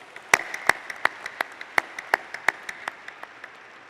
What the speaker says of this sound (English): let's give our staff in Schreyer a round of applause